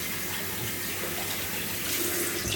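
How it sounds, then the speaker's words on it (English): Cold water runs steadily from a bathroom tap during a shave, a continuous close rushing splash that swells slightly near the end. "All right, cold water splash."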